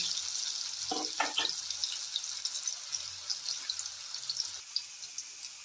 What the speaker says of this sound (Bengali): আলুগুলো লাল করে ভেজে নেব।